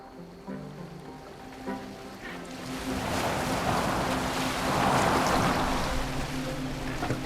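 A boat sails on water in Assassin's Creed Valhalla, with a steady rush of waves and wind building to a full wash of surf, with a faint voice near the start.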